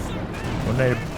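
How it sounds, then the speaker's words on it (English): Heavy mortar barrage in Company of Heroes 2 during a 2v2 match, heard as a loud low rumble of several impacts swelling toward the end, mixed with battle noise and game sounds, with a voice talking over it. "that's heavy mortar barrage from the artillery officer"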